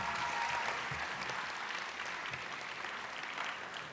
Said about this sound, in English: Please give me a round of applause for our wonderful platform.